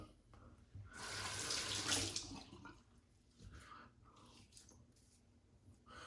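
Water runs from a tap to rinse off shaving lather, a close rushing stream that swells for about a second and a half and then gives way to quieter trickles and small handling sounds.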